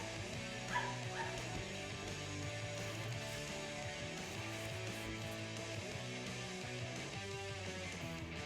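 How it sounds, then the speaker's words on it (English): A puppy outdoors barks and yips at another dog, with repeated high, slightly whiny barks in an irregular rhythm, heard at a distance under a steady background of other sound and no talk. "Barking at the other dog."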